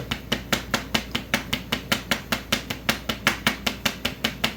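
A hammer repeatedly strikes the edges of a hole in steady, evenly spaced blows, about five per second, with sharp, close, loud impacts over a low background hum.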